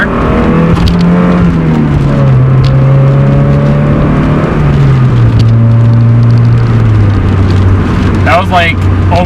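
Mazda Miata engine revving hard in first gear with a clutch that slips, a loud droning tone wavering and sagging in pitch inside the cabin, with a voice speaking over it.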